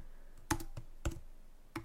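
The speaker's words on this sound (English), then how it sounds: "just typing in what I had before" Sparse key presses on a computer keyboard while shell script commands are entered, with three or four distinct, fairly loud clacks separated by short pauses and no talking.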